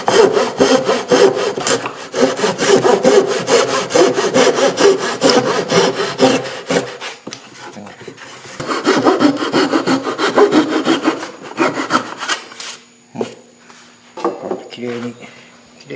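A Japanese hand saw cuts through a wooden board in a furniture maker's workshop, loud rhythmic rasping strokes in quick succession that pause and resume, ending in lighter scraping.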